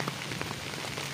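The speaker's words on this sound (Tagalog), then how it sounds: "Ay medyo malakas-lakas po ang ulan." Steady, dense rain pours down, hissing evenly with scattered drops pattering on a surface, with no voices.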